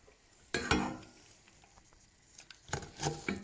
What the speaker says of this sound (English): When all the sugar turned in caramel. Can you hear popping?